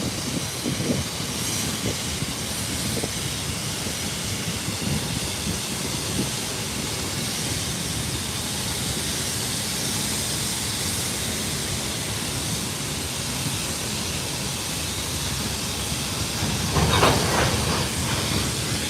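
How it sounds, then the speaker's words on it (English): Train rumbling past at close range with a broad steady roar and hiss, a brief louder burst of clanking near the end, no voices. "Uh-oh, train stopping."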